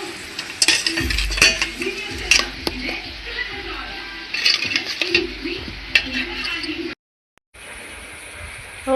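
A spoon stirs amla pickle with oil and garlic in a metal pot, with repeated scraping clinks and sloshing strokes at close range, then a brief silent gap before faint room sound.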